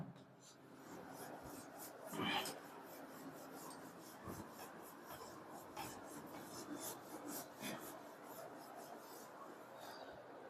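Writing is rubbed off a board during a maths lesson. A steady, close, raspy scrubbing runs throughout with a few louder swipes, and a voice murmurs faintly underneath.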